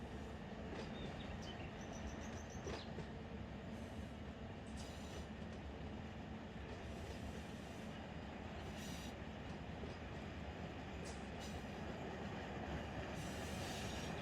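A Georgia Pacific freight train rolls along steadily in the Run 8 train simulator, a constant low rumble of wheels and cars with faint high squeals now and then.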